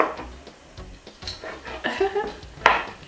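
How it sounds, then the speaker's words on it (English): A knife chops ingredients for Nigerian yam porridge against a board in a home kitchen, a few irregular close knocks and taps with faint clinks between them. "So I'm just chopping."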